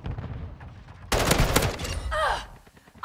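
Gunfire in Call of Duty Modern Warfare II: a loud, dense burst of shots breaks in after a quieter stretch, followed by a swelling whine and further sharp cracks near the end.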